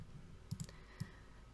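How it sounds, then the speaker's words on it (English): A few soft clicks come from a computer keyboard being typed on, three quiet keystrokes in quick succession over a faint background hiss. "I'm typing here fake handles"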